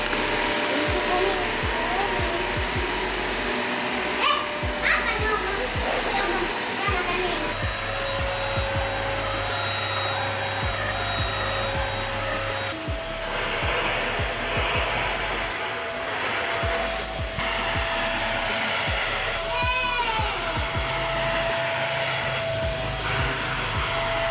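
A Xiaomi Roborock S5 Max robot vacuum cleaner hums with a steady, loud motor whine throughout, close by and unbroken, with occasional shifts in pitch and faint speech mixed underneath.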